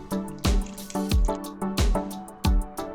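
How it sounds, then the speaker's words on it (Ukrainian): Sour cream thinned with water pours into a pot of potatoes in a run of rhythmic wet plops and glugs, about one every half second, close and fairly loud. "і вливаємо у картоплю."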